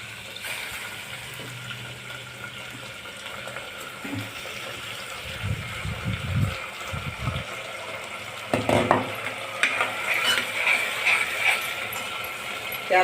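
Rice goes into hot oil for a quick home-style sprouted-lentil khichdi, with pouring, rustling and scraping stirring sounds, a low clatter in the middle and a louder burst of stirring toward the end.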